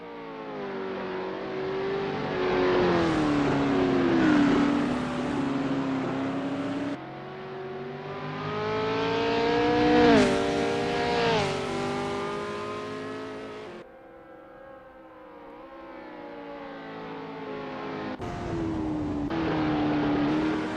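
A 1969 Formula 5000 race car engine on an out lap at the Oesterreichring in Assetto Corsa, rising and falling through repeated throttle revs and gear changes, loud and close with no talking.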